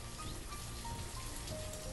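Steady rain pattering on surfaces in the city-building video game Banished, a continuous even wash of drops with a low rumble underneath, moderately loud and without talk.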